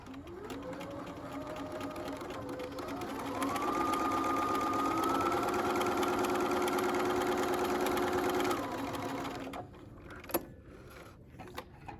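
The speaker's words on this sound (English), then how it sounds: "sew a straight seam at 5/8 seam allowance" A sewing machine stitches a straight seam at a 5/8 allowance, whirring steadily and close for about nine seconds with a slight rise in pitch partway through, then stops, leaving a few faint clicks.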